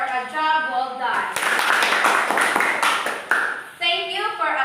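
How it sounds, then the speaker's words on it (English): A class of students applauding together after a group's work, a dense burst of clapping for about three seconds, framed by a teacher's voice before and after. "Let's clap our hands, everybody, for a job well done"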